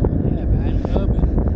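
Gusty wind buffets the microphone at the top of a downhill skate run in Cape Town, a loud low rumble throughout.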